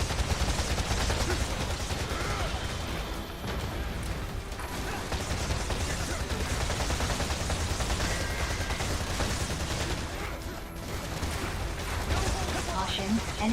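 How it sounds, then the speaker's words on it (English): Dense gunfire and a frag grenade blast in the video game Freedom Wars Remastered, a loud, continuous barrage of shots and explosions that fills the whole stretch without pause. "Here, eat a frag grenade."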